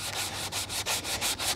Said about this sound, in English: Just a little light sanding there with a sanding block